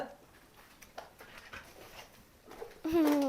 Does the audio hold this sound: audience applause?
no